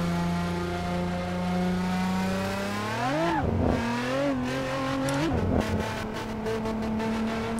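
A car engine revs up sharply, its pitch sweeping high then dropping, with quick gear shifts and renewed acceleration, like a racing game.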